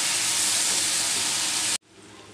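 Whole hog plums (amra) go into a pan of spice paste fried with chili, turmeric and garam masala, giving a loud, steady, close-up sizzle that cuts off abruptly, leaving a quieter hiss.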